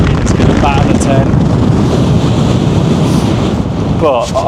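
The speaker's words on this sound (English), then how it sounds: "there's one of those gusts" Strong gusts of up to 50mph batter a wild camping spot on the Old Man of Coniston, a loud, continuous roaring buffet against the microphone that holds for the whole stretch.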